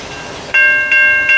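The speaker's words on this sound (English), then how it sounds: "we got the Amtrak PO 80 northbound by Cary's Amtrak station" An Amtrak passenger train pulls into Cary's station northbound, sounding a loud multi-tone horn in three close blasts over a steady rail rumble.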